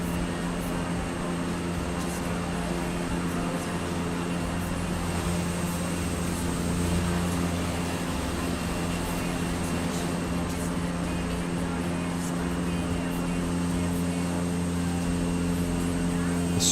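A Cessna Caravan's propeller engine drones steadily in Microsoft Flight Simulator on an Alaska bush trip, a constant moderate hum with a tonal whine and no talking.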